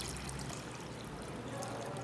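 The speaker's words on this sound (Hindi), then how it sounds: "थोड़ा सा मैं और पानी डालूँगी।" Hot water is poured into a cooking pot of chicken dal mash, giving a continuous, fairly faint splashing trickle for a couple of seconds with no voices.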